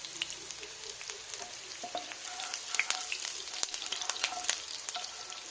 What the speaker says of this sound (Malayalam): നമുക്കിതിലേക്ക് കുറച്ച് ഉള്ളി വാട്ടാൻ വേണ്ടിയിട്ട് വെക്കാം.